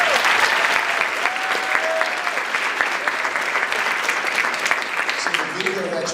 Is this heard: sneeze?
no